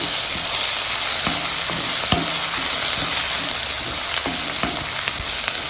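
Byadgi chillies fry in hot oil in a pan, giving a loud, steady sizzle with scattered crackles and pops and occasional stirring clicks, and no voices.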